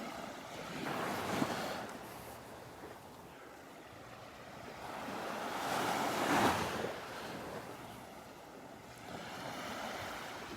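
Beach surf in North Naples, Florida: waves roll in and break in soft washes, swelling twice to louder crests, with wind buffeting the microphone and no talk.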